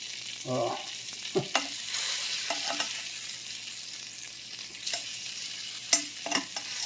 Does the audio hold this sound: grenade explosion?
no